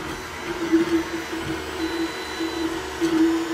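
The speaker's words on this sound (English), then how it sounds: "So right now the printer is printing the test file." An AnyCubic i3 Mega 3D printer runs a test print, giving a steady mechanical whir with a tonal stepper-motor whine that rises and falls in short movements.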